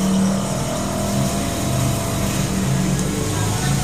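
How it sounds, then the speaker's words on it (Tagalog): Outdoor fan motor of a Samsung inverter air conditioner using R32 refrigerant, running after a no-power repair, producing a loud, steady mechanical hum with low droning tones throughout. "Pag umikot yung fan motor, ayos na to, solve na to."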